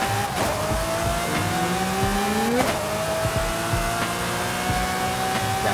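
Lamborghini Murcielago LP with an LB body kit accelerating hard in Forza Horizon 5, a loud sustained engine howl climbing in pitch through upshifts, with one clear gear change midway and tire noise beneath.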